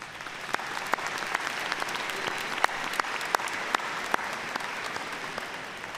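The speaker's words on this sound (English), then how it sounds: "Let's give them all a round of applause." Steady applause from an audience at a college commencement ceremony fills the room, dense clapping with a few sharper claps standing out, sustained at an even level.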